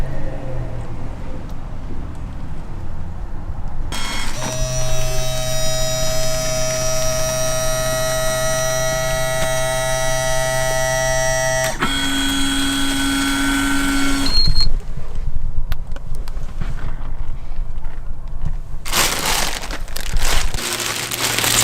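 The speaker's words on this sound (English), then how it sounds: "it'll heat seal and drop it out of the bottom" A Modiwell self-sealing waterless portable toilet runs its bag heat-sealing cycle, a loud steady motorized hum with a droning tone that shifts pitch partway, followed by mechanical clunks and rustling as it finishes.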